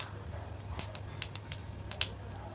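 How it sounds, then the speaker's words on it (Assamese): Whole cumin seeds sputter in hot oil as tempering for a kawai (climbing perch) fish curry with potatoes, giving faint, sparse crackles and pops over a quiet hum. "ফোৰণত দি দিলোঁ জিৰা।"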